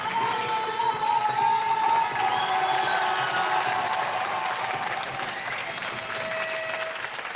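A crowd at a men's individual test event in a 2023 Europe semifinal cheers and applauds loudly, a continuous roar of clapping with whistles and shouts that holds steady before easing slightly, with a commentator's voice over it.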